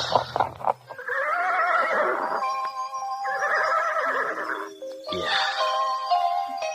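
A horse neighs loudly in an Indonesian audio drama, with long wavering whinnies in two drawn-out bursts followed by a third shorter call, close and clear with little else around.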